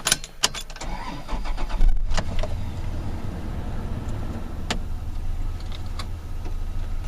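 A car engine cranks and catches with sharp clicks, then settles into a steady, low rumbling idle that runs on close by.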